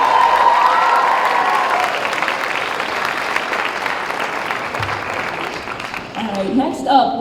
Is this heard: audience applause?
yes